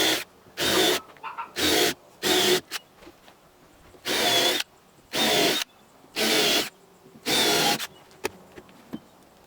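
A power drill drives regular screws into wood while building a homemade mud kitchen, in about seven short, loud whirring bursts with quiet pauses between them.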